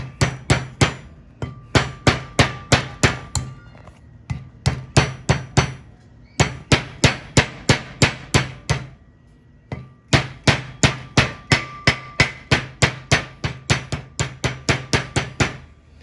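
A hammer taps a wheel bearing race into a brake rotor from a 1973 Mach 1, striking in quick rhythmic bursts of sharp metallic knocks separated by brief pauses, close and loud without speech.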